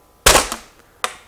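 A homemade water bottle cannon fires with a sharp, loud bang and a short decaying rush, followed by a brief smaller pop about a second later.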